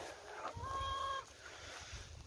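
Farm ducks on a rainy homestead, one short nasal quack-like honk, faint and slightly distant over quiet outdoor background noise.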